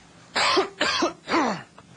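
Three harsh, close coughs follow one another in quick succession, each a short raspy burst, with a quiet pause after the last.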